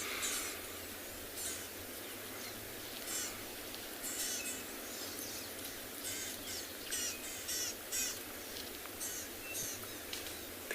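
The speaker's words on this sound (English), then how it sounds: "you can probably also hear a lot of birds calling" Many birds call and chirp in a steady outdoor chorus on a sunset safari at Tswalu, with a low safari vehicle rumble running underneath throughout.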